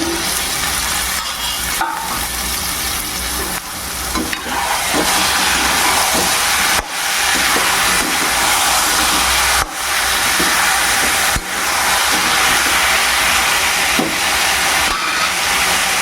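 Cut vegetables and broad beans sauté in a pan, a steady hissing sizzle with repeated stirring scrapes and a few sharp clatters of the spoon against the pan.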